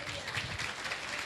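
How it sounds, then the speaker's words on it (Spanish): A church congregation applauding during a sermon, a brief dense burst of clapping throughout. "Denle un aplauso al Señor, hermano."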